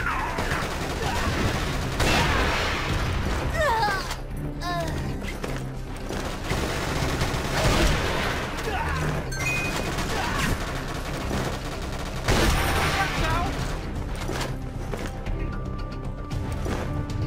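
Gunfire from an F2X sniper rifle in a shooting video game, loud sharp shots recurring through a dense barrage of other battle noise, crashes and impacts, with some voices mixed in.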